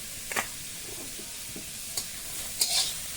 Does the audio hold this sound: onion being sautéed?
yes